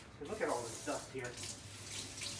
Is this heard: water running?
yes